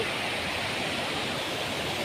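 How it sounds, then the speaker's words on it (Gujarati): Steady, dense rush of water falling from a hill after heavy rain at Ratanmahal sanctuary, a continuous broadband roar with no breaks or voices. "જે ડુંગર ઉપરથી પડતું પાણીનો અવાજ કેવો સુંદર આવી રહ્યો છે"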